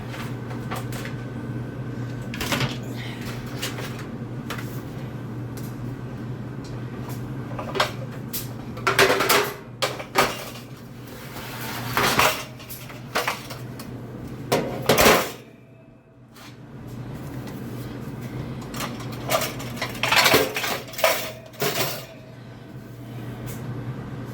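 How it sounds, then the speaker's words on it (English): Metal pans clatter and knock against each other and cabinet surfaces in several bursts, with softer handling noises and a steady low hum in between. "So now I'm going to put my pans"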